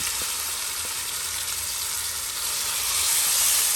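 Marinated mutton sizzling and frying in a hot pan for a yogurt-based lamb curry, a steady, close, bright crackling hiss that holds throughout and grows slightly louder near the end, with no talking.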